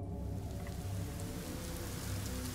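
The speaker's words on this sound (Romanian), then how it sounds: "Plouă!" Steady rain pouring down in The Shopping List video game, a continuous hissing patter with no voices, moderately loud throughout.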